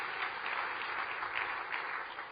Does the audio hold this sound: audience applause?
yes